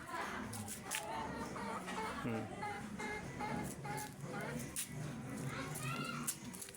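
Chickens cluck and murmur close by amid a busy outdoor scene, with a person talking over them throughout.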